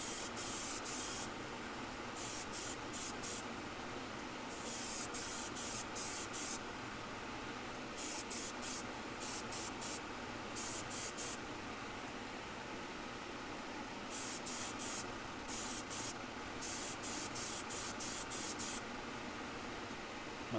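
Airbrush spraying a final coat of Vallejo paint, a steady close hiss broken into repeated short bursts as the trigger is pulsed on and off, with no talk.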